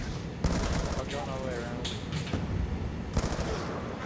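Rapid bursts of light machine gun fire in a Call of Duty style multiplayer game, several loud rattling volleys and single shots mixed with game sounds, with players talking over it.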